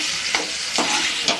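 Taro (arbi) pieces frying in a pan while a spoon stirs them, a steady sizzle broken by three soft scraping strokes, close and fairly loud, with no talking.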